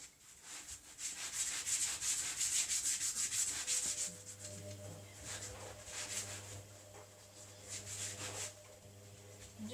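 Steady close rubbing and scraping while icing is smoothed over a marzipan-covered Christmas cake, continuous and fairly soft with a low hum beneath it in the second half.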